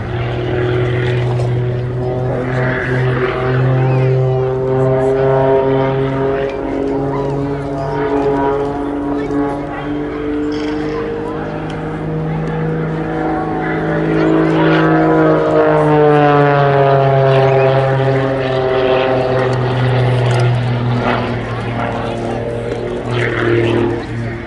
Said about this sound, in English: Just look at this aircraft's raw performance, based on a Pitts S2S special. 300 horsepower from the Lycoming AEIO 540 engine.